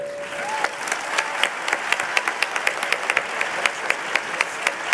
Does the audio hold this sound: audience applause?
yes